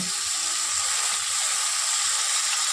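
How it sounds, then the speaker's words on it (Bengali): Hilsa fish wrapped in bottle gourd leaves frying in a pan, a steady close hiss and sizzle of hot oil with no talking. "দুটো দুটো করে ভাজতে হবে"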